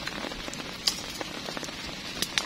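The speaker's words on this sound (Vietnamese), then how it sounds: "rồi mưa ướt giọt luôn, túp liều lý tưởng bị lủng lỗ rồi" Rain falls on a leaky tent in a forest, scattered drops tapping and pattering irregularly against a soft steady hiss, with a few sharper close drips standing out.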